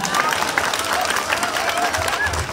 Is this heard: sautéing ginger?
no